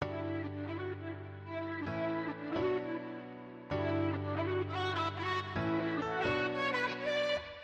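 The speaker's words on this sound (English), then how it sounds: "I have just the piano and the lower part of the vocal chop." Sustained piano chords layered with the lower part of a vocal chop in an EDM track, shifting every couple of seconds with a steady, soft texture and no talking.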